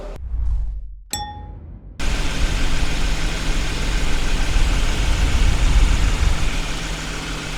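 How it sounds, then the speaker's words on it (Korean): A 2021 Genesis G90 3.8 V6 engine idles steadily in its engine bay with a broad low rumble after a couple of brief metallic dings, continuous and fairly loud, with no talking. "엔진 소리 굉장히 좋고요"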